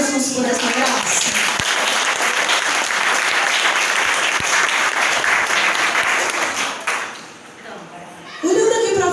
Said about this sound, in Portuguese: Então aplauda Jesus por essa graça.